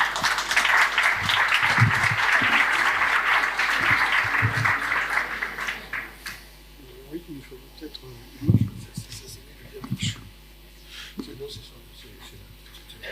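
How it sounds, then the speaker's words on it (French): Strong audience applause breaks out for association board members at a talk, a loud dense clatter lasting about six seconds before it stops and a few voices and small handling noises follow. "Vous pouvez les applaudir bien fort"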